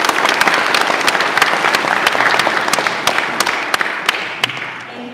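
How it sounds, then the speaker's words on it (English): A crowd applauds Congresswoman Young Kim with loud, close, continuous clapping and sharp individual claps standing out, slowly tapering off toward the end. "Big round of applause for her."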